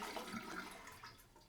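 Water released from a toilet tank during a leak repair, a brief gushing flush rushing steadily then easing off, close and fairly quiet.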